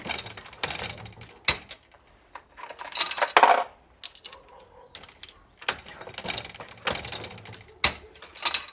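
Dillon 550 reloading press with a Lee inline bullet feeder, its handle cranked in repeated strokes, giving a series of close metallic clunks, clicks and ratcheting rattles with short pauses between cycles.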